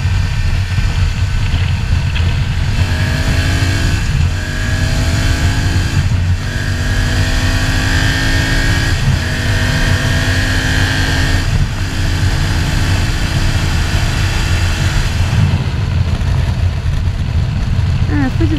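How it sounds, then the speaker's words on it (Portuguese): A BMW F 850 GS Adventure motorcycle accelerates along a straight, engine note climbing through several gear changes with a steady loud roar and wind rush, while a rider talks over it. "Vamos testar agora na reta, vambora. Vamos ver se dá para acelerar."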